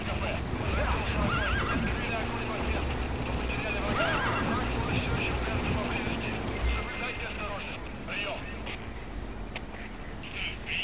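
A horse in the video game Metal Gear Solid 5 whinnies repeatedly near a cliff, with clip-clopping hooves and game ambience around it while a player talks over it.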